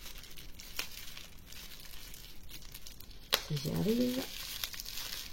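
A packaged black spruce essential oil from a distillery in Auvergne being opened, with soft crinkling and a short tearing rustle of wrapping near the middle, close and quiet, while a voice speaks briefly.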